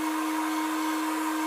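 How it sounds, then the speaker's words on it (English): A heat gun runs close by with a steady, loud motor whine and a constant airy blast while it heats and softens craft foam. No one speaks. "So we get the heat gun going."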